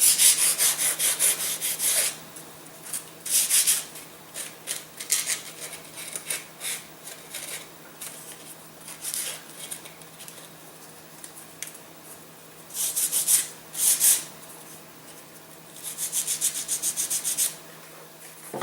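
Wooden parts for a rocket glider being hand-sanded in several separate bursts of scratchy rubbing, close and moderately loud, with quieter pauses between strokes and no speech.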